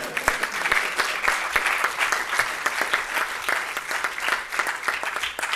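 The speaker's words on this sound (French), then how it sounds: "on peut applaudir." Audience applause during a political party's federal council speech, a sustained, dense round of clapping with crisp individual claps, loud and even throughout with no talk over it.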